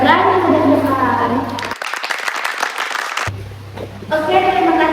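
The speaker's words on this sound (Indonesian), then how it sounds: "Mari tepuk tangan dulu kepada Erika." A short burst of group clapping for a student, Erika, after a classroom presentation, lasting about a second and a half, with people talking just before and after.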